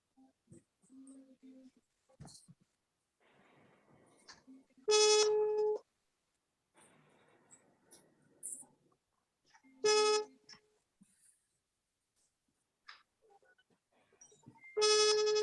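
A telephone rings during a call in a quiet indoor room, with three loud bursts of ringing evenly spaced about five seconds apart, and faint scattered voices and clicks between them.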